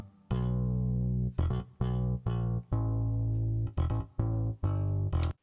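A bass bus in Cubase sounds with a touch of stereo reverb ambience, deep sustained bass notes played in short separate phrases with a slight tail after each, alone without talk.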